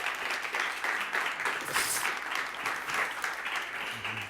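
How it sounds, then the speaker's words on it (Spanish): Applause from a seminar audience welcoming panel guests, among them the director of a digital business master's programme, a steady dense clapping that carries on through the whole stretch without a break. "Un aplauso, por favor."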